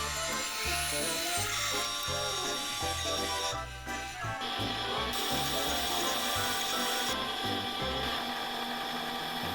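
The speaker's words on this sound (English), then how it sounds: "take our Morgan dollar coin ring that we made earlier and then cut a channel in it" A tool cuts a channel into a Morgan silver dollar coin ring with a steady, close, high-pitched metallic whine, broken by a rhythmic low pulsing and a brief dip partway through.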